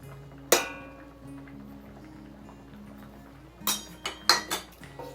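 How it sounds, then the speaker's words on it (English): A utensil stirring flour into vegetables in a cooking pot to make a roux, a sharp metallic clank followed later by a quick run of clinks and scrapes against the pot, close and otherwise quiet. "we're going to mix this up because we're making a roux"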